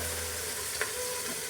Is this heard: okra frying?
yes